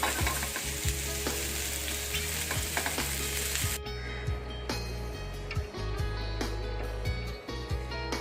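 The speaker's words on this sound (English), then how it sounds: "So while onions are cooking" Sliced onions fry in a pan for a spicy Maharashtrian mutton Kolhapuri curry. The sizzle is steady and close, with occasional stirring scrapes and taps throughout.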